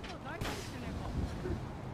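Fireworks go off in a GTA roleplay video game: a sharp broadband burst followed by a steady crackling, popping wash of explosions, heard close and loud, with voices underneath.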